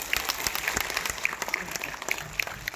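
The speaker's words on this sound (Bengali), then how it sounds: "অর্জনে করতালি হবে।" Audience applause in a hall after a correct quiz answer, a brief scattered patter of claps at moderate distance with crowd murmur underneath.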